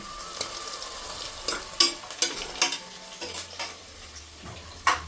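Onions sautéing in a pan for country-chicken biryani, with a steady sizzle of frying broken by scattered scraping and stirring knocks of a spoon against the pan, close and fairly loud, with no voice.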